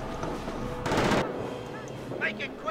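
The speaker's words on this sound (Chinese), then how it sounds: "我在上面架机枪。" Burst of automatic gunfire from a Company of Heroes modern warfare mod, a dense loud rattle lasting about half a second amid game sound effects and background chatter.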